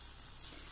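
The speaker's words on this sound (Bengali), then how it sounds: "আবারও নেড়ে চেড়ে নিয়ে 2 থেকে 3 মিনিটের জন্য ভেজে নিলেই একদম রেডি হয়ে যাবে এই ডিম ভুরজিগুলো" Egg bhurji with potato and spring onion frying in a pan, giving a soft, steady sizzling hiss for a brief moment.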